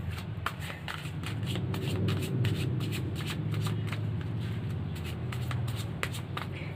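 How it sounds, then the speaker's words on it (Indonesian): Tarot cards being shuffled and drawn for a card reading make a continuous riffling, sliding rustle close up, with sharp slaps and flicks repeating throughout. "Kita ambil kartunya dulu."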